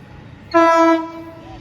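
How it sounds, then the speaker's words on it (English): Loud Sydney train horn blast on a station platform at Petersham, a sustained multi-tone chord lasting about half a second before trailing off into background rumble. "Oh, that's the final train."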